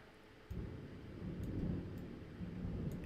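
Thunder rumbles outside during a severe-weather thunderstorm, a deep sustained roll that swells suddenly after a quiet start and keeps grumbling over steady rain hiss, fairly distant and soft.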